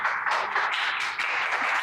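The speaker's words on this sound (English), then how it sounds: "So please give a round of applause for him." An audience applauds at a talk event, a steady wash of dense clapping that holds evenly throughout with no voices over it.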